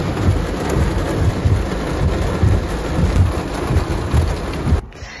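Heavy rain pours steadily with low rumbling thunder beneath it, a loud, dense storm wash that cuts off abruptly near the end.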